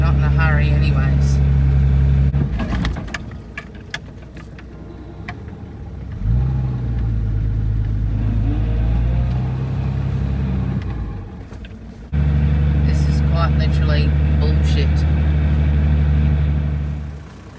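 A stuck 4WD revving hard in first low gear with the rear locker engaged, loud engine surges that drop and rise again in several long pulls, heard up close with someone talking over it.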